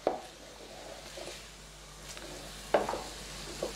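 Fish sauce cooks into a dumpling filling in a pan, making a soft, quiet sizzle with two or three brief stirring scrapes.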